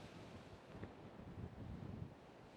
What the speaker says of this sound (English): The wind's definitely getting up.